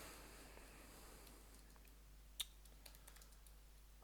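A computer keyboard being typed on, faint sparse key clicks with one sharper tap standing out, heard alone against a quiet room hum.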